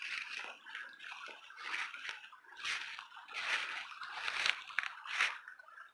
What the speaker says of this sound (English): Now this creek doesn't usually have this much water in it.